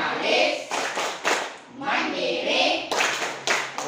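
A classroom of children doing the Tepuk PPK clap game: bursts of sharp, rhythmic group clapping in patterned runs with brief pauses, close and loud, with chanting voices mixed in.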